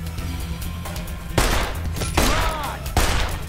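Gunfire from Fallout New Vegas cracks three times at roughly even intervals, each loud shot ringing out over dense, steady game background noise and music.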